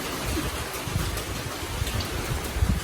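Steady rain falling nearby, a dense even patter on surfaces with no voices.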